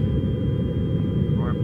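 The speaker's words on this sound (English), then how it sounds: "main thruster" Steady low rocket-thruster rumble from a lunar lander's main engine in the game Lunar Flight, a continuous dense roar filling the whole clip at a constant level.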